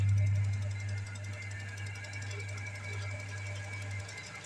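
A machine dries a washed pillow with a low, steady motor hum and a faint whir, alone and moderately quiet, with a slight dip in level after the first half second.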